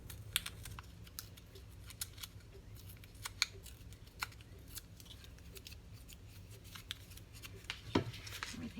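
Paper torn by hand around the edges of pages for a floral junk journal, a steady run of short, close, dry rips and crinkles with a few sharper tears, no talking.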